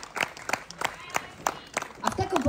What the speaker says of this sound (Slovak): aj preto bol veľký potlesk